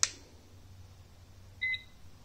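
A Ruko Carle smart robot toy gives one short, thin electronic beep in a quiet room, a moment after a soft click.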